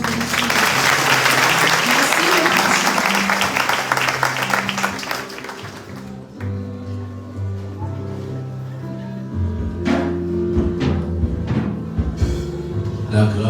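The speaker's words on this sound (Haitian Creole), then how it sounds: "L'église applaudit" A church congregation claps at a worship service, a loud, dense burst of applause lasting about six seconds before it fades, leaving sustained music tones playing underneath.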